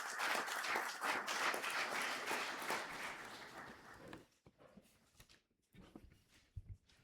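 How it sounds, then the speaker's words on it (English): Audience applause at a formal youth engagement event, a steady burst of clapping for several seconds that fades out, leaving a quieter room with scattered faint sounds. "Let us give her a round of applause."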